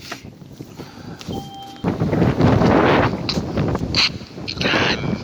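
Gusty wind roars and buffets the microphone, swelling louder after a quieter start with rough low rumble throughout.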